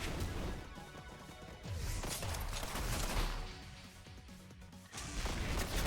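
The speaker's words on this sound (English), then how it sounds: "Ooh, that was a rock explosion." A rock explosion in the card battle video game Duelists of Eden, a dense crashing burst with crumbling impacts that swells and repeats over several seconds, loud and busy with no talking.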